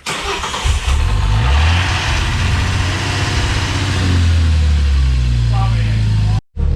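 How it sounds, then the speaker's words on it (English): A car sitting unused for over a month starts up: the engine cranks and catches, then idles roughly and revs in loud, close surges before cutting off abruptly near the end. "first start up after it's been sitting for a month and a bit"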